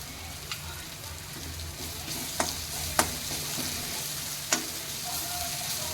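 Crushed dried coriander roasting in a pan over a low gas flame, gentle continuous sizzle with a few sharp scraping clicks as it is stirred, close and moderately loud.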